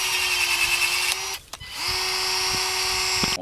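Ryobi One+ battery pole lopper cutting dangling pin oak branches: a steady, loud motor whine that briefly drops away mid-clip as the cut finishes, then starts up again and runs on.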